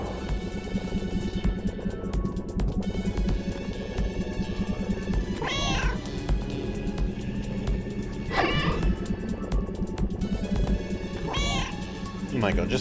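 Short cartoonish meows from a cute cat video game come in three distinct bursts, spaced a few seconds apart, over a steady bed of game music.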